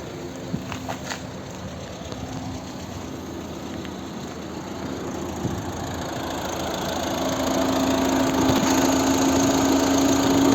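A 2011 Volvo V50 1.6 diesel engine idles with a low rumble and faint mechanical rattle, growing slightly louder toward the end.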